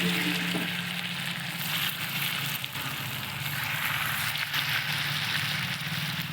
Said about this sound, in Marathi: आता तेल गरम झालेलं आहे. आपण आता भजी सोडून घेऊया.